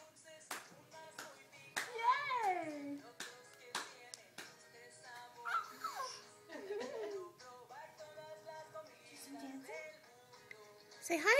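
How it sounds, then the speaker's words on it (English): A small child claps hands in a few sharp, quick bursts at home while a young child babbles and squeals in between and music plays softly. "Can you clap?"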